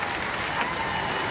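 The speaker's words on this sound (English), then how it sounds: "Give them a round of applause, ladies and gentlemen." Studio audience applause on a robot combat game show, steady dense clapping filling the whole short stretch at moderate level with no talk over it.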